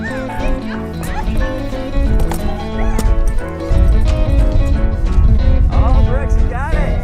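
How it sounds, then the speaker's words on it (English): Toy unicorn horse ridden outdoors plays galloping clip-clop and neighing sound effects, loud and continuous with jingly music, while children's voices and barking-like yips mix in. "I like the sound effects. Sound like you're racing on a horse."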